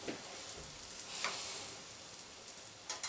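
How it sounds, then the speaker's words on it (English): Rice cooks in a pot with a steady, dense hiss of boiling liquid, close and fairly faint, broken by a few brief clinks near the end. "now we have boiling for our rice"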